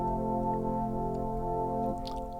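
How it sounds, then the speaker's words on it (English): Soloed synth layer of a Trident MkIII patch, a plain, simple sustained chord tone held steadily and evenly, played alone at moderate level. "I'm just going to solo the synth so you can hear what that sounds like."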